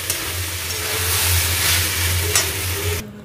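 Chicken and egg pasta, just splashed with a little vinegar, sizzles and hisses as it is stirred in a hot pan over a low hum, then cuts off abruptly near the end.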